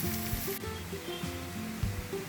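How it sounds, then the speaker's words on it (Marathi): Chopped garlic sizzles in a ladleful of hot oil as a steady crackling hiss, with soft repeated scraping and stirring strokes and a faint hum beneath, fairly quiet throughout. "तेलामध्ये छान खमंग एक पळी तेल घातलं आहे त्यात चांगला गुलाबीसर करून घ्यायचा"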